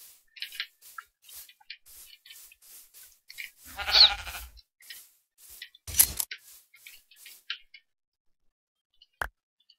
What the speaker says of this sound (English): Oh, there's a sheep. There's one single sheep.